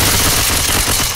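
Gunfire in the video game Left 4 Dead 2, a loud, close, continuous burst of shots filling the whole brief moment with no talk.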